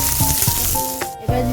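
Onions sizzle and fry in hot mustard oil with sugar, two dry red chillies and a bay leaf, a steady crackling hiss with a few sharper spits and stirring knocks, close and loud.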